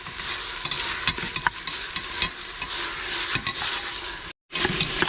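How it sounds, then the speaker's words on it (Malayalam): Coriander leaves and green chillies being stirred into sizzling mutton biryani masala for Thalasseri dum biryani, a continuous close frying hiss broken by repeated scraping stirs and one brief pause. "ഇനി നമുക്ക് മല്ലിയിലയും കീറിയ 3 പച്ചമുളകും കൂടി ചേർത്ത് കൊടുക്കാം. നന്നായിട്ടൊന്ന് ഇളക്കി കൊടുക്കാം."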